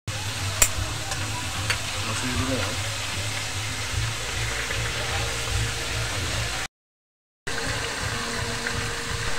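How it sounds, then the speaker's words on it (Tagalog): Squid frying in hot oil gives a steady crackling sizzle with sharp pops of spattering oil, and a voice talks over it partway through before a brief silent gap. "napakahirap magprito nito at nagtatalsikan po yung mantika"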